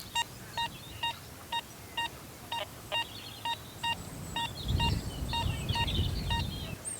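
An XP Deus II metal detector sounds a steady target tone, with evenly spaced, clear electronic beeps repeating about every half second over a low rumble of wind or handling noise.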